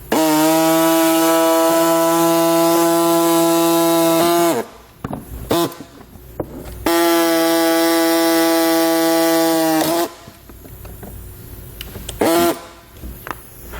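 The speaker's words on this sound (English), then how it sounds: "we're using kind of like a tiny sawzall here to remove ours" A small reciprocating saw cuts off plastic air deflectors under a 2017 Jeep Grand Cherokee, making two loud, close bursts of steady high buzzing, each running several seconds and separated by short pauses with scraping and handling noises.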